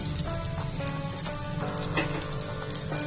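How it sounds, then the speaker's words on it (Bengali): Two medium onions, chopped, frying in hot oil for palak paneer, giving a steady loud crackling sizzle with faint clinks of stirring throughout. "পেঁয়াজটাকে খুব সুন্দর গোল্ডেন ব্রাউন করে ভেজে নেব।"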